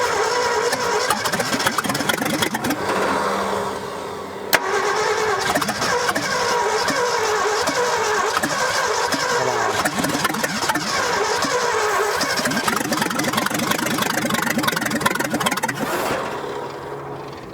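A buried, long-neglected 1965 Ford F100 engine cranks and catches, then runs rough and uneven as it starves for fuel, chugging loudly and steadily at close range for most of the stretch with no talk over it.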